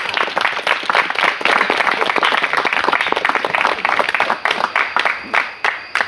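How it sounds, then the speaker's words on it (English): Outdoor crowd at a hunters camp fireside gathering breaks into a loud, sustained round of clapping that tapers into scattered, fading claps toward the end. "So I just wanted to do a round of applause for the women of Bigfoot and also the next generation of Bigfoot."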